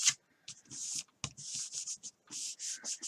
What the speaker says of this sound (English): getting another piece of paper and putting it down and then just rubbing it